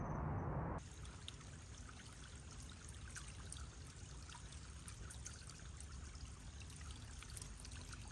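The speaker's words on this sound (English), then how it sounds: "Here there is a small stream. The water is flowing gently." A small stream flows gently outdoors in a natural landscape, giving a soft continuous trickle and babble that stays faint and steady for about eight seconds after a short louder burst at the start.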